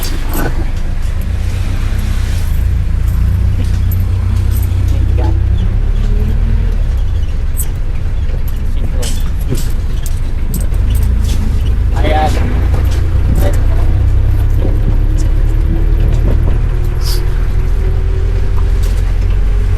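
A jeep rumbles steadily along a road with a loud, constant low engine drone and rattling, while people talk nearby over the engine noise throughout.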